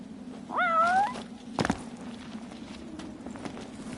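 In Final Fantasy XV, a cat gives a single clear, drawn-out meow, followed by a brief thump and then quiet ambient game sound.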